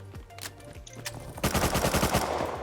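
Gunfire in the survival video game Rust: a few scattered shots, then a rapid, loud automatic burst of evenly spaced rounds that carries on to the end.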